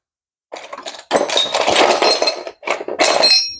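Metal caliper bolts clink and rattle in a box while being rummaged through for a Mustang II front end, in short loud bursts of jangling with brief pauses between.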